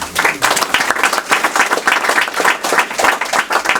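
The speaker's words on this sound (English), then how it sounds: "To Wayne and Kevin Freeman, I give my biggest applause" Loud, close applause from a crowd at a town hall mural unveiling, dense overlapping hand claps pulsing steadily throughout.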